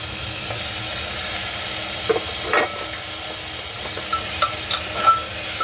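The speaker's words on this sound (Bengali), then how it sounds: "তো এখন আগে জিরেটা ফোড়ন দিয়ে দিই" Cumin seeds tempering in hot oil for a curry, giving a steady, moderate sizzle with a few brief pops and crackles scattered through it, and no talking.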